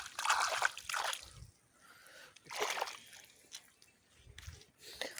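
Water from a farm borewell trickles and splashes into field beds, a soft intermittent pouring with drips and sloshes, fairly faint and heard alone without talk.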